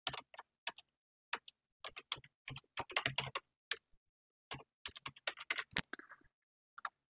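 Quiet, close computer keyboard typing in irregular bursts of crisp key clicks, with a Tab key pressed among them, and pauses between groups of strokes.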